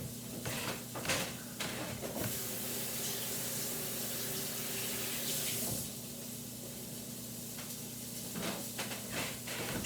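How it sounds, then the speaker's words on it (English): Tap water runs steadily into a sink, rinsing celery, onions and carrots, with a continuous close splashing hiss and occasional handling knocks under a low background hum. "Let me give these a quick rinse."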